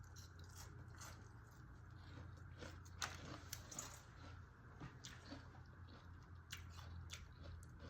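Crisp bites and crunchy chewing on battered vegan fried hearts of palm, faint and close, with scattered sharp crackles over a steady low background hum.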